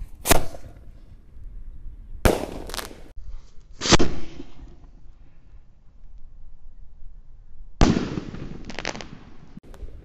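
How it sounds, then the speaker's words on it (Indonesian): Bima Sakti 3 fireworks launching at dusk before Ramadan: a series of sharp, loud bursts and crackling pops in irregular clusters, several nearby blasts separated by quieter gaps. "Seperti apa ini Bima Sakti 3. Let's go, siap meluncur."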